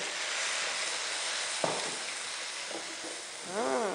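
Garlic and shrimp head fat sizzle in a frying pan with a continuous close hiss, broken by a few brief stirring knocks and a short squeaky tonal sound near the end.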